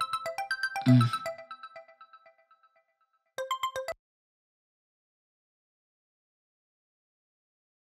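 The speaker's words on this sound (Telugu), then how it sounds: "ఆ ఫోన్ మోగుతుంది, వినిపిస్తుందా లేదా?" A phone ringtone plays a short tonal melody up close, then stops. After a gap of silence a brief second burst of the ringtone sounds.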